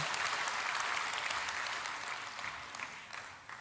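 A church congregation bursts into sustained applause, dense steady clapping that fills the space and tapers slightly toward the end, with no voices over it.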